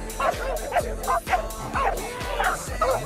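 American Pit Bull Terriers at an ADBA dog show in Belgium give repeated sharp barks and yips with whimpering between them, fairly close and in a steady irregular rhythm.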